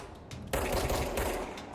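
Sniper fire in the action video game Control, a sudden dense burst of rapid cracking gunfire that breaks in after a quieter half second and keeps rattling, fairly faint in the game mix with no voices.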